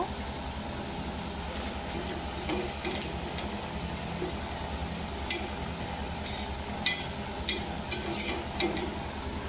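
Patishapta pitha toasts in a pan with a soft, steady crackling sizzle, faint and close, broken by a few light scrapes and taps.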